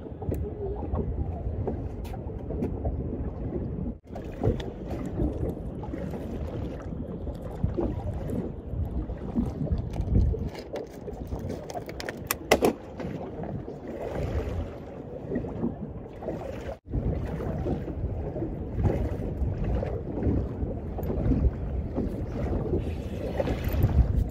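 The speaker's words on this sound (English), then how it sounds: "This wind is very strong. I'm hoping that it's not affecting the camera." Strong wind buffeting the microphone on a fishing boat: a loud, continuous low rumble and roar with gusty surges and a few brief dropouts.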